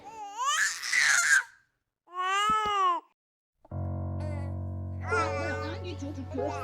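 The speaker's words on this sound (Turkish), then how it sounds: "Şu lanet olsun bebek ağlama sesi." A baby crying sound in a video game, wailing in bursts with short gaps and then a longer cry over a steady droning game tone.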